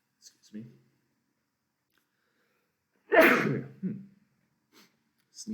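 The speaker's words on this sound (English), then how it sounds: "Sneeze." A single sharp sneeze, close and clear in a quiet room, with faint breaths and soft murmuring before and after.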